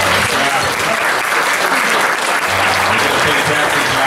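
A crowd at a wedding reception claps loudly and steadily for the people who prepared the meal, a dense close round of applause that runs throughout without pause.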